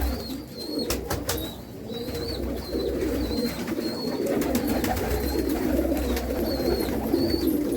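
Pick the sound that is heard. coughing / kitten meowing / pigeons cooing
pigeons cooing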